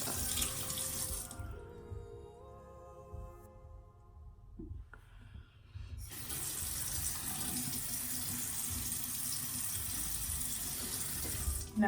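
Water runs from a tap into a sink, a loud, steady close-up splashing rush that pauses briefly, then resumes and keeps flowing to the end.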